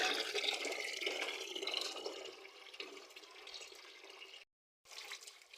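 Running tap water pours steadily for a few seconds, splashing into a bucket, then cuts off briefly before flowing again; no talking.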